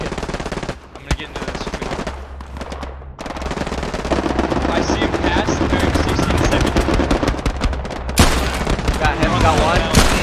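MG42 machine gun fire in the Hell Let Loose WWII shooter, a loud, dense barrage of rapid bursts and overlapping gunshots with booming impacts running almost continuously, a brief lull near the start, with a player's voice underneath.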